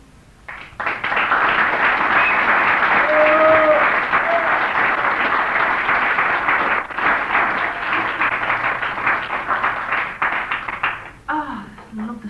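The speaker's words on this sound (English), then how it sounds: "I love the sound of applause" A comedy club audience breaks into loud, sustained applause that swells quickly and holds for about ten seconds, with a few whoops and laughs mixed in before it fades out and a voice comes in.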